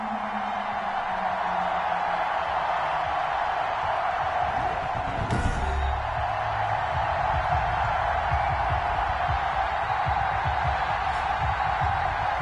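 A steady roar from the home crowd at a Miami Dolphins game against the Buffalo Bills in Madden NFL 21 fills the stadium continuously, with a brief thud and some low rumbling partway through.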